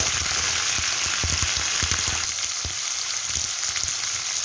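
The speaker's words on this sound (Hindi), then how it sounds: "इसके अंदर जो है हम लोग क्रैब ऐड कर देंगे और इसको अच्छी तरह जो है वो भूनेंगे" Crab frying in a spiced curry masala gives a steady, loud sizzle with scattered stirring clatters and scrapes, and no voices.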